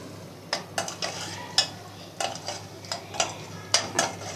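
Macaroni is stirred and fried in a pan, a spoon scraping and knocking against the metal at irregular intervals over a soft background sizzle.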